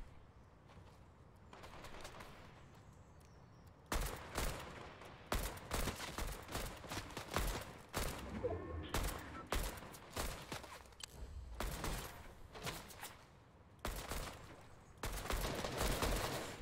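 Rapid gunfire from the video game Fortnite rattles in dense, loud bursts of automatic shots and single cracks, broken by brief pauses across the stretch, with no talking over it.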